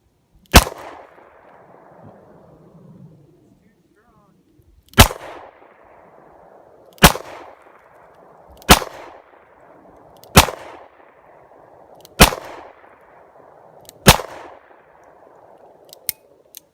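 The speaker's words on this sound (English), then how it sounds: "We'll have the others here take some shots at the target and see how we do." Seven sharp, loud shots from a Smith & Wesson 686+ three-inch revolver are fired at a target outdoors, spaced a second or two apart after an initial pause, each followed by a short decaying echo.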